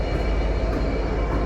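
A double-headed Freightliner freight train running without its containers rumbles past at Doncaster, a loud, dense, continuous low roar of locomotives and wagons close by.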